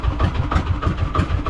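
A small fishing boat's engine runs slowly at sea, a loud, close, low rhythmic chugging that pulses about every third of a second.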